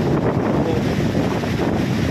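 Strong typhoon wind roars continuously in Quezon, Philippines, buffeting the microphone with a dense, rumbling rush and no pauses.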